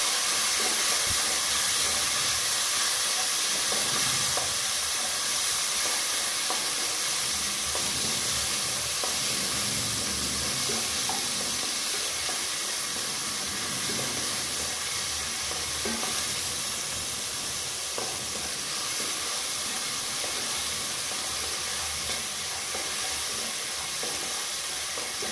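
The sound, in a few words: onions and tomatoes frying in a pan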